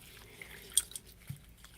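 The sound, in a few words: water dripping as ASMR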